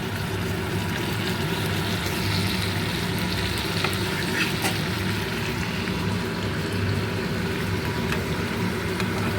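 Fish frying in oil in a pan, a constant close crackling sizzle over a low hum, with a few soft utensil taps and no talking.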